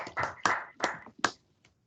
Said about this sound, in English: Another virtual round of applause for our founder.